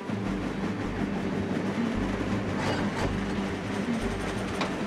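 Trains rolling along track in the Trainz railway simulator game, a continuous loud rumble with faint rhythmic rail clatter and occasional brief metallic accents.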